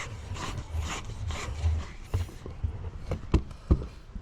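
A screw is driven by hand into a garden weeding tool, giving faint, close scraping and rubbing grinds with a couple of small sharp ticks near the end.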